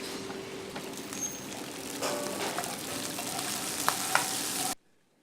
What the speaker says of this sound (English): Cook the tuna for a few more minutes.